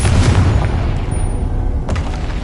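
Confringo blasting spell detonating in Hogwarts Legacy, a loud booming explosion with heavy low-end rumble at the start, trailing off, then a second sharp burst near the two-second mark.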